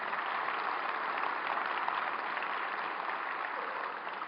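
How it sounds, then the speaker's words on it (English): Steady, dense applause from a conference audience honoring award recipients at an EMS Today 2014 keynote, a continuous wash of many hands clapping at even loudness throughout, with no voices above it. "How about a round of applause for all our award recipients again?"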